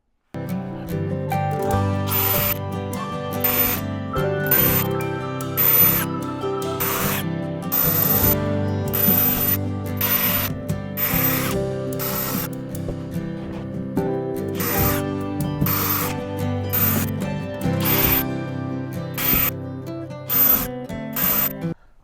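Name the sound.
drilling holes in teardrop trailer wall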